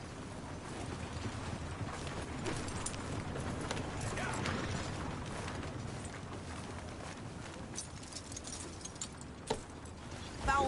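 Horse hooves clip-clop steadily during a ride in Red Dead Redemption 2, a soft continuous gait under wind and faint ambient noise, with a brief louder thump near the end.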